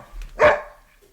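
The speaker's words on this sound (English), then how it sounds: "my dog's pretty hyped about Kenley Jansen, apparently, so he likes it" A single sharp dog bark rings out close by, a brief burst that fades quickly into quiet, with a soft low rumble underneath.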